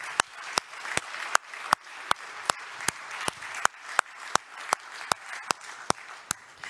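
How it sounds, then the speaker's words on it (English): An audience gives applause for three teenagers at an education-in-emergencies event, a dense wash of many hands clapping with a steady stream of sharper, louder individual claps standing out at a regular pace. "So a big round of applause again to our three teenagers."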